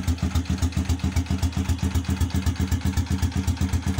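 A motorcycle engine idles roughly and misfires on a worn rectifier regulator setup with the battery removed, its uneven chugging pulses repeating steadily and close by with no talk.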